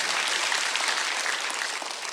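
Church congregation clapping together during a Sunday worship service, a dense, steady wash of many hands that holds evenly at close range for the whole stretch.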